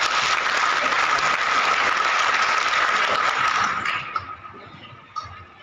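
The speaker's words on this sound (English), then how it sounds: "Can we clap for him," A lecture audience claps loudly and continuously in a hall for about four seconds after a presentation, then the applause tapers off into a few lingering claps.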